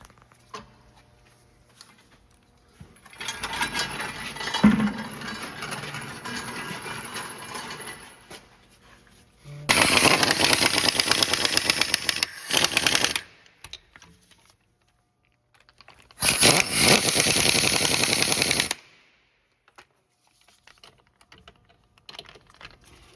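Transfer case bolts on a Chevy Traverse AWD being tightened with a ratchet, heard as three bursts of fast, close clicking separated by quiet pauses.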